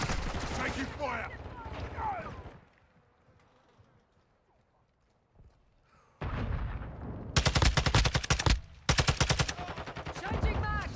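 Automatic gunfire in a shooter game bursts out loud and rapid in two long strings after a voice, a quiet lull and scattered ambient game sounds, with a short pause between the bursts.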